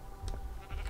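Sheep bleating in Minecraft, a few short nasal bleats coming close together over a soft game background, with no talk.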